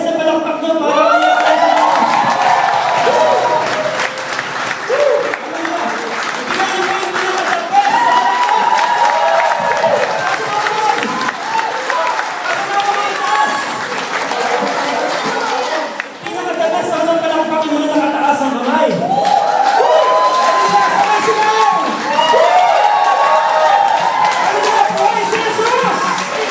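Congregation at a Filipino charismatic Catholic prayer gathering clapping and cheering loudly throughout, a dense continuous crowd roar with shouts, mixed with a voice over the noise.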